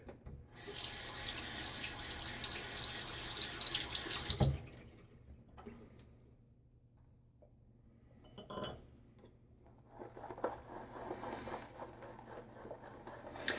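Tap water runs loudly into a sink for about four seconds while shaving soap is being loaded with a Gillette Aristocrat razor set, then stops with a knock, followed by quieter handling noises and a brief second trickle.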